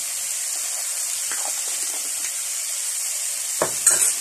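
Masala with turmeric fries with a steady, bright sizzle in a pan, joined near the end by a few stronger scrapes as the spoon stirs it.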